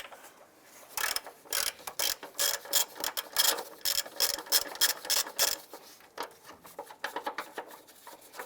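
A ratchet wrench with a 17mm socket loosens a big top bolt on a transmission mount of a 2001-2005 Honda Civic, giving repeated close bursts of rapid clicking with short pauses between strokes.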